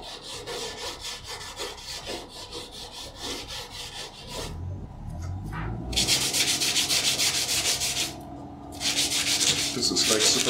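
Fine sandpaper rubbed by hand over a guitar's wooden body during finishing, a close, steady run of rhythmic scratchy strokes with a short pause partway through before the rubbing resumes.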